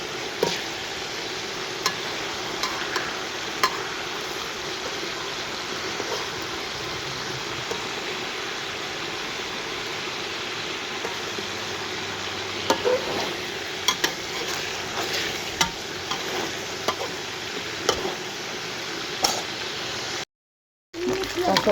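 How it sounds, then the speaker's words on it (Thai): Fish frying in a pan of oil for a home-cooked Thai meal, a steady continuous sizzle with faint stirring and scraping, close and even throughout, with a short gap of silence near the end. "ทอดปลานี่แหละ"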